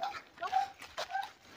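A dog penned outside lets out brief, high whimpering whines, a few soft cries in quick succession, faint and close with no talking over them.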